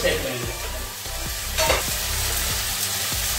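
Prawns are stirred into masala in a hot pan, a loud steady sizzle with repeated scraping spatula strokes and a low hum beneath, no voices.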